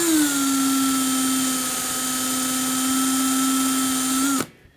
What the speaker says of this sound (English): We're just going to spin the wheel and hold it against it.